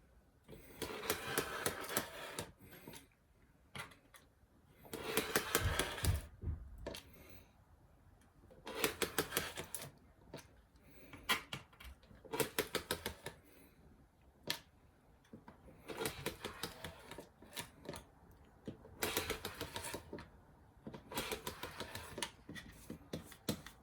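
A handheld rotary cutter slicing print-and-play cards, always cut from bottom to top in one direction, heard as repeated bursts of rough rolling and scraping strokes separated by quiet pauses, close and fairly faint.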